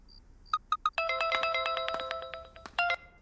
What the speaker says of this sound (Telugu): నాన్నకు ఫోన్ వచ్చిందిరా.